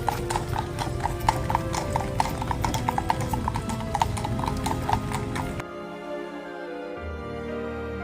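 Horses walking with steady, rhythmic clip-clopping hooves close by, loud and continuous for most of the stretch before the sound cuts to a quieter, different ambience near the end.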